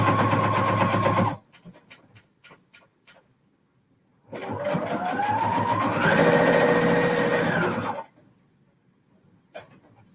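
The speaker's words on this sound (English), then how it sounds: "I amaze myself with this super duper fast speeding sewing." An electric sewing machine runs fast in two bursts, a short one and then a longer run whose motor whine climbs in pitch as it speeds up, with quiet pauses between.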